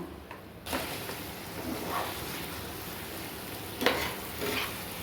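Honey chicken masala gravy simmers and bubbles in a pan on the stove, a steady soft sizzle with occasional stirring scrapes, close and alone without talk.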